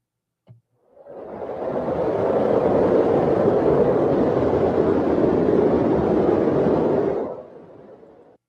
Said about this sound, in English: A tornado in the distance.